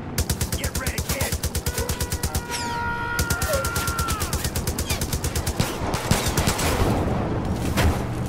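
Heavy automatic fire from a big mounted gun in Far Cry 5 pounds out in rapid, unbroken bursts across the whole stretch, loud and close, with a brief change in tone partway through.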